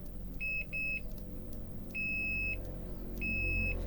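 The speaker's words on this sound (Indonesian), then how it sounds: "Oh, ini buzzer. Buzzer bukan?" Buzzer of a ZOYI ZT98 digital multimeter beeping: four short, high, steady tones in uneven bursts, two close together then two spaced apart, clear over a low room hum.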